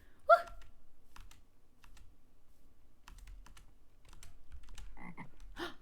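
Frog croaking in a video game, one sharp loud croak near the start and a softer croak near the end, with scattered keyboard typing clicks throughout and no talking.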